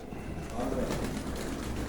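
Pigeons, mostly male birds and some young, coo softly inside a loft in a brief, faint, low murmur.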